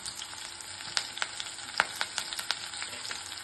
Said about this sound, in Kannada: ಈರುಳ್ಳಿ ಹಾಕ್ಕೊಳ್ತಿದ್ದೀನಿ. ಒಂದು ಒಣ ಮೆಣಸಿನ್ಕಾಯಿ ಹಾಕ್ಕೊಳ್ತಿದ್ದೀನಿ. ಕರಿಬೇವು ಹಾಕ್ಕೊಳ್ತಿದ್ದೀನಿ.